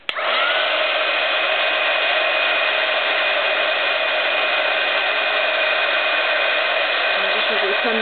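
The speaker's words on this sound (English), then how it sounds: "So I'm going to heat this again." Heat gun blowing on a purple handmade flower, a steady loud whooshing fan roar close by that runs unbroken from start to finish.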